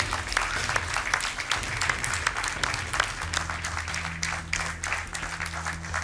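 Audience applause on a Brazilian TV show after a contest ends, a steady crackle of clapping with a low musical tone entering partway through.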